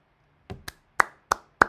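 Hands clapping five times up close during a live Manchester United vs Tottenham Premier League match, sharp separate claps that start soft and grow louder, with no talking.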